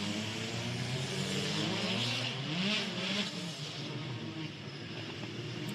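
WTCC touring race cars at the 2014 Marrakech street race roll onto the grid, engines rumbling and rising in pitch as they pass, fairly faint and steady, with no clear voices.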